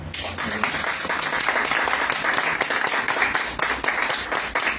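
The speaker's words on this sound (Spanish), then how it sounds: "el agradecimiento, el aplauso" An audience at a talk applauds in thanks, a continuous dense wash of clapping from many hands, steady and fairly loud throughout.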